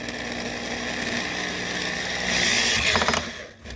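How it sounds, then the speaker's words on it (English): A power drill bores out a plastic divot on the fender of a 2021 Can-Am Outlander 850 XMR ATV, a steady close whir that rises into a harsher grinding burst near the end before cutting off. "So just put your drill gun on there."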